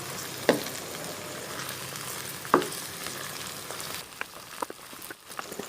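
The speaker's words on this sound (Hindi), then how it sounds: "यहाँ पे हमारी भिंडियाँ फ्राई हो रही हैं।" Okra (bhindi) frying in plenty of oil for chicken tikka bhindi: a continuous near crackle and sizzle, broken by two sharp utensil clinks and then lighter stirring strokes.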